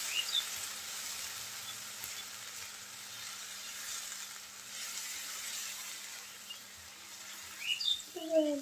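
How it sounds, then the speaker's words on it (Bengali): Spices, salt and tomato with a splash of water sautéing in a pan for a fish-tail bhuna, a steady soft sizzle throughout, with faint bird chirps near the end. "মশলা একটুখানি কষিয়ে নিতে হবে।"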